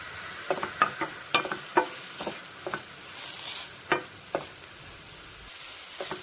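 Amarakkaya thoran with grated coconut is stirred in a pan, a series of sharp, quick scraping strokes over a light sizzle, with a few pauses between bursts.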